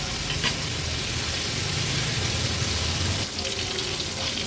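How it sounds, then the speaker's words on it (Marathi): Fish pieces coated in turmeric, salt, masala and ginger-garlic paste fry in a pan as part of an Agri-Koli style fish thali, giving a steady, close sizzle that continues without pause. "आम्ही अशीच हळद मीठ मसाला आलं लसूण पेस्ट लावूनच मच्छी तळतो"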